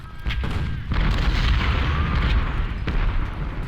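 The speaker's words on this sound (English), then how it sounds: "Their artillery is opening fire on us." Artillery fire in the Civil War strategy game Ultimate General: Civil War, heavy overlapping booms and rumbling blasts rolling continuously, loud and dense with no voices.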